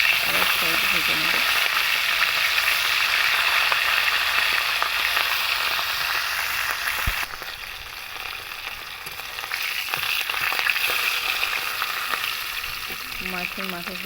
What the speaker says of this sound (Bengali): এক সাইড ভাজা হয়ে গেছে, আর এক সাইড ভেজে নেব।